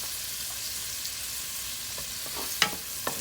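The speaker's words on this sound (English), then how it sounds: "we're going to just let this fry in there for a little bit" Tiny dried shrimps fry in a pot on a stovetop, a steady soft sizzle with a few sharp pops and clinks near the end.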